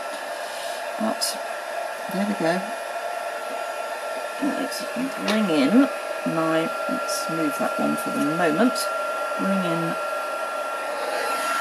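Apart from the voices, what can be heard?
heat gun running for heat embossing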